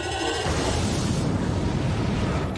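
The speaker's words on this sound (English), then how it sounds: "There's such a big bold bang to that torpedo hitting that bird of prey" A big, bold torpedo explosion strikes a Klingon Bird of Prey in Star Trek VI: The Undiscovered Country, a loud booming blast that swells and sustains with a rushing, fiery roar.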